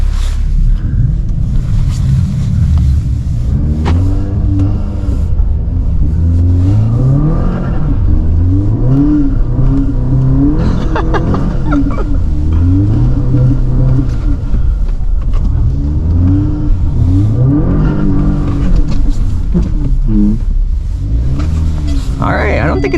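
Tuned 420hp Audi S3 revving and driving through a snowed-in parking lot, engine pitch rising and falling repeatedly in loud surging pulls with intake noise, wind rumble throughout and someone talking over it.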